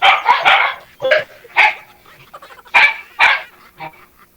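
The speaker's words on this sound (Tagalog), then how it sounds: "ang ingay ng mga aso niyo" Several dogs bark in short bursts, loud and close, with a few yips between barks and brief quieter gaps.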